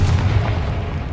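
A Confringo blasting spell from Hogwarts Legacy goes off as a loud, close, rumbling explosion with a heavy low boom that fills the whole brief moment.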